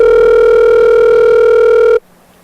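Steady telephone dial tone, loud and continuous for about two seconds before cutting off abruptly to near silence, with no voices.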